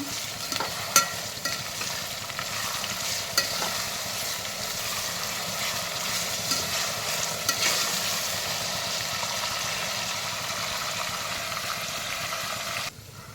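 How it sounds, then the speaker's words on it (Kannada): Tomato and onion with salt frying in a pan for mutton biryani, a steady close sizzle with occasional stirring clicks and scrapes running throughout, no talk. "ಟೊಮೊಟೊ ಈರುಳ್ಳಿ ಬೇಯಲಿ ಅಂತ ಹೇಳ್ಬಿಟ್ಟು ಸ್ವಲ್ಪ ಸಾಲ್ಟ್ ಹಾಕ್ಕೊತಾ ಇದ್ದೀನಿ."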